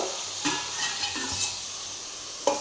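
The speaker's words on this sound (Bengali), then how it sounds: "সবকে মিশিয়ে ঢাকা দিয়ে দেবো সব ইয়েগুলোকে মিশিয়ে ঢাকা দিয়ে দেবো" Bottle gourd stem chorchori stir-fried in a pan: a spatula scrapes through it in several separate strokes over a steady close sizzle of frying.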